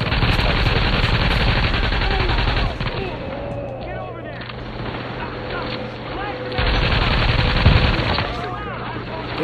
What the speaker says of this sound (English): This, this uh, machine gun, I just love it, the RPK.